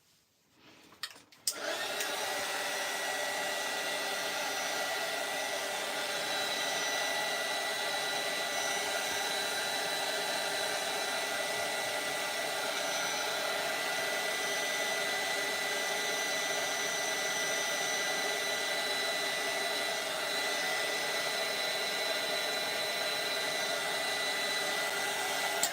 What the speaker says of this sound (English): Okay, I'm going to use my dryer to dry this